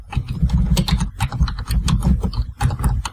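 Rapid close clicking on a computer keyboard as a file name is typed, a dense burst of keystrokes with a short pause partway through.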